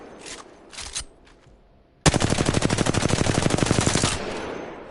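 Rapid automatic gunfire in Apex Legends, a steady burst of evenly spaced shots lasting about two seconds with the recoil held under control, following a quiet stretch.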